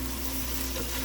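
Chicken pieces sauté with onion and garlic in hot oil, giving a steady, close, even sizzle across the whole short moment with no talking.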